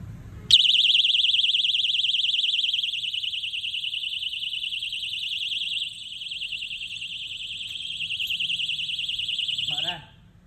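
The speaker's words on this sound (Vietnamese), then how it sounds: "Nếu trộm còn tiếp tục đụng vào khóa thì nó sẽ phát báo động." A ZORO anti-theft alarm padlock with a turn key sounds its alarm: a loud, continuous, piercing electronic siren with a fast warbling pulse, close by and lasting about nine seconds before it cuts off.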